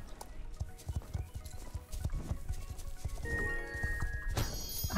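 Horse hooves clip-clop steadily in the online riding game Star Stable Online, a rhythmic run of close, even hoofbeats with a chime-like game tone near the end and faint talk underneath.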